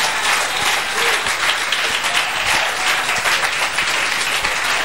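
A church congregation applauds the Holy Spirit at a Sunday service, with loud, dense, continuous clapping from many hands filling the whole stretch at an even level.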